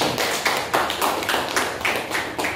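Pupils in a primary school classroom clap together in a brief, close burst of tapping hand claps that comes in uneven waves.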